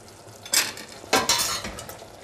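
A spoon stirs curry eggplant sauce in a pan, giving a few quick scraping strokes against the metal with a soft simmering hiss beneath.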